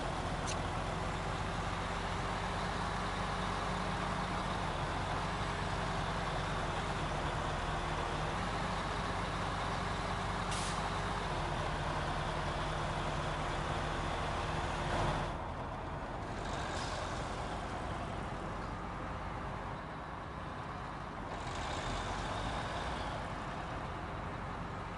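A heavy truck in the video game Snowrunner drives along with a constant low engine drone, a few brief hissing air-brake releases, and quieter stretches near the end, with no voices present.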